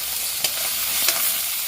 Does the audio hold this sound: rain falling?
no